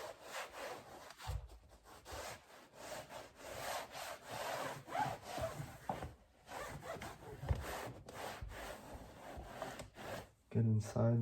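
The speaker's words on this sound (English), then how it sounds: "we're just gonna take that microfiber towel, go around all the edges" A microfiber towel is rubbed around the edges of a car's interior in close, rough back-and-forth strokes with brief pauses between passes.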